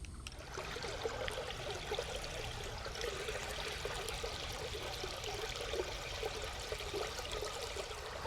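Water pours and trickles steadily over an ammonite fossil, rinsing away Oklahoma creek gravel, a continuous close splashing wash with no voices.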